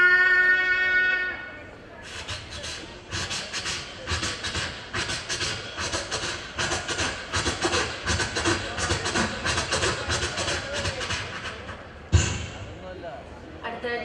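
A performer's voice mimics a passing train at a Kerala school arts festival mimicry contest: a rising whistle-like tone opens, then a long run of steady, rhythmic chugging bursts, ending with a sharp loud burst and a brief fade.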